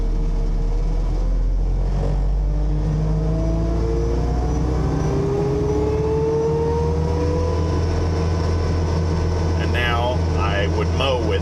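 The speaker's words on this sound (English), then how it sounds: "And then I slowly rev up the engine like this." A Blue Diamond Extreme Duty mower engine is slowly revved up, its loud droning tone climbing steadily in pitch over several seconds and then holding at a higher whine.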